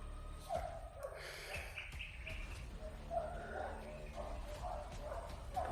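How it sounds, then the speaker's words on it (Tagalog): Several dogs bark at a distance somewhere ahead on a mountain trail, their calls scattered and fairly faint against birdsong and outdoor background noise. "may mga aso sa bandang unahan mga tol"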